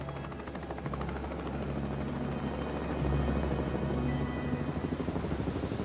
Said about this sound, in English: Rescue helicopters were soon at the crash site, but there were no survivors.